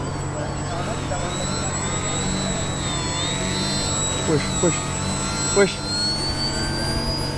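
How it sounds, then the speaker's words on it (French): A remote-controlled airplane, apparently jet-powered, flies over the crowd at a concert show in a large arena, giving a steady high whine with a couple of brief louder swells, heard under people talking and crowd noise. "On a ramené un show d'avion télécommandé pour la première partie."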